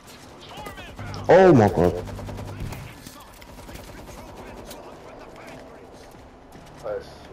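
Automated defensive turrets in World War Z Aftermath rattle off rapid bursts of gunfire, loudest in a sharp cluster early on and then continuing more quietly beneath an excited exclamation and game noise.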